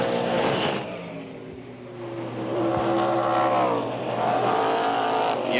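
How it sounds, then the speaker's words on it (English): A 1992 SCCA Trans Am race car pulls out of the pits at Mosport, its engine revving and rising in pitch with a couple of surging accelerations over a steady background of track noise. "we've got Greg Pickett just pulling out of the pits"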